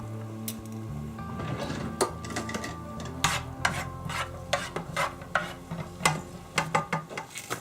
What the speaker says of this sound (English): add 2 teaspoons of fresh garlic and cook until it begins to turn a light golden brown